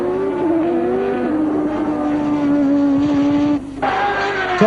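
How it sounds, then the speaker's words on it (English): Formula One race car from the 1983 season, a Ferrari-era turbo machine, droning at steady engine pitch as it rolls slowly into the pits, with a brief drop in sound near the end before the engine note returns. "And Tambay coming slowly into the pits"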